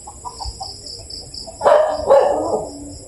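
A dog barks twice in loud, close bursts after a quiet stretch, over steady insect-like chirping in a rural yard.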